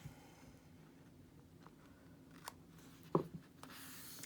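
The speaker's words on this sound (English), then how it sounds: "so I'll use my little scissors" Small scissors snip through a paper page of a Bible quilt journal, a couple of soft, crisp cuts against a quiet room, faint and close, the sharpest snip coming near the end.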